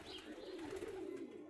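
Soft, low pigeon cooing, a rolling warble heard close by against a faint background hiss.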